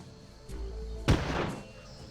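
A single rifle shot cracks out at a Therizinosaurus in the Carnivores hunting game, one sharp loud report with a short decaying tail over a low ambient rumble.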